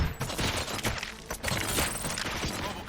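Rapid bursts of gunfire in the RoboCop Rogue City video game, loud and dense, with repeated sharp shots crackling together like a firefight inside a warehouse.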